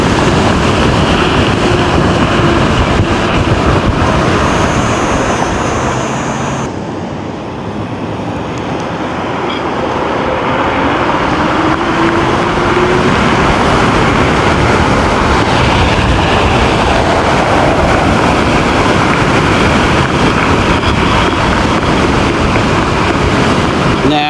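Strong crosswind roars past a Teverun Fighter Supreme 7260r electric scooter riding at speed, a loud, continuous broadband rush of buffeting air that dips briefly then returns full, close to the rider.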